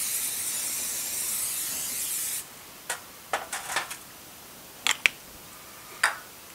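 An aerosol can sprays cooking spray onto a drip pan for baking turkey in one close, steady hiss lasting about two seconds, then a few light clicks and taps follow.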